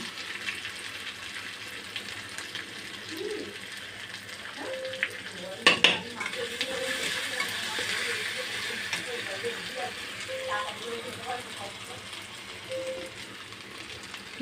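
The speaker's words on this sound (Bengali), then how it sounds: "হলুদ গুঁড়ো মশলাটা সুন্দরভাবে কষানো হয়ে গেছে" Turmeric and cumin powder with poppy seed paste sizzle and fry in a pan for shukto, with scraping stirs and a clatter midway, while a voice speaks over the cooking.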